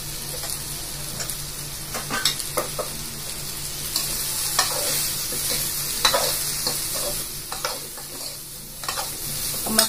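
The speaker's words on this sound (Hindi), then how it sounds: "गैस ऑन कर लिया है, अब इसको हमने अच्छे से हिला लिया है।" Raw mango pickle being stirred in a pan over a gas flame: continuous sizzling hiss with irregular scraping strokes of the spoon, close and steady throughout, with no talking.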